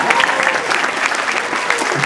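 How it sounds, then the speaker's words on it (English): Loud applause from a school graduation audience, filling the whole moment as a steady wash of many hands clapping together. "So give them applause, yeah."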